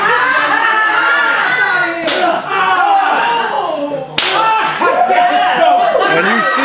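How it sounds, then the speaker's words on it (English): Sharp slapping impacts land at a professional wrestling show, with loud smacks near 2 and 4 seconds cutting through an energetic commentator's talk and an excited arena crowd. "And you see the kicks, you hear the kicks."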